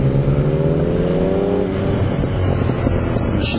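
Car engine droning steadily in first gear while driving a lap, a close, continuous motor note with a rising whine that fades into rougher, broadband road noise.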